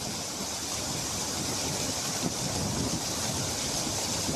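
Floodwater from the Fulzar river rushes over a submerged causeway during heavy rain, a loud, continuous broadband roar mixed with wind buffeting the microphone and no pauses.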